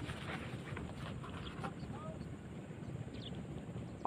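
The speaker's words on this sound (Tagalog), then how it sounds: "Mahangin na eh." Low, steady wind rumbles and buffets the microphone throughout, fairly faint, with a hollow, outdoor roar and no clear voices.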